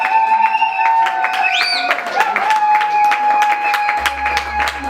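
Wedding guests applauding loudly at a ceremony, dense clapping and crowd noise heard close, layered under sustained tones that sound like music.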